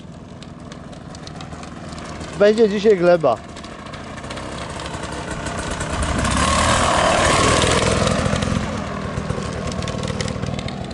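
A Beta 300 dirt bike engine idles, then its revs rise into a sustained, louder roar before settling back, while someone speaks briefly in the middle.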